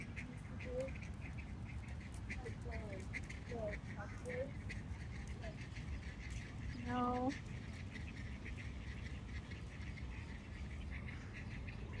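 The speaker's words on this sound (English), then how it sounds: "There's some ducks though." Ducks quack in a handful of short, nasal calls scattered through an outdoor park setting, faint and a little distant over steady background noise, with a brief word spoken nearby.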